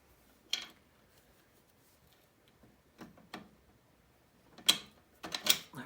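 A nut and bolt slide through the shock mount of a 2005 CRF70F during a new shock and stiff spring install, giving a few faint, sparse metallic clicks and taps against a quiet background.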